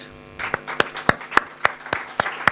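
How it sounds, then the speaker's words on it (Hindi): Sparse rhythmic applause from a small group at a seminar session, steady single claps roughly every quarter second, over a faint room hum. "करतल ध्वनि का आवाज"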